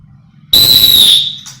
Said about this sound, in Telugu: అప్పుడు మనకు విజిల్ పర్ఫెక్ట్గా బ్లో అవుతుంది